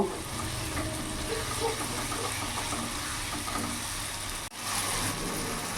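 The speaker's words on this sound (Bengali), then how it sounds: "একটু মশলাটা আমি কষিয়ে নেব" Spice masala for loitta fish curry frying over a medium gas flame, a dense continuous sizzle with faint stirring underneath, close up, and a brief dip near the end; no voices.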